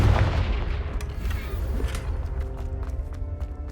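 Confringo fire spell blast in Hogwarts Legacy, a loud booming burst at the start that rolls into rumbling, crackling debris and scattered impacts, no talking.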